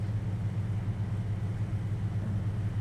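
Steady droning piston engine of a de Havilland Beaver floatplane in Flight Simulator X, held at climb power, a continuous low hum with no breaks and no talking.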